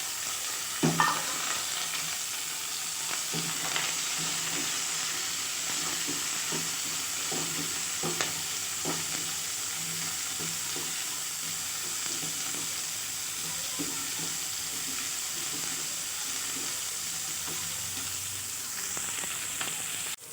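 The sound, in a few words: onions and garlic frying in a pan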